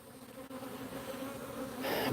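Bees buzzing thickly around a hive fitted with a top feeder, a dense, steady swarm close by that grows louder near the end, with no talking.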